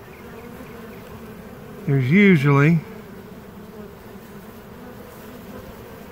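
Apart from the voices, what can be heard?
honey bees buzzing around a ball of bees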